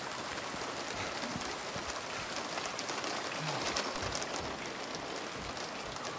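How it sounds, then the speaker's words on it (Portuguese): Steady rain pours across the scene in the Silent Hill 2 Remake, a dense, even hiss of drops hitting surfaces that stays constant throughout with no voices. "Essa chuva também atrapalha muito a visibilidade."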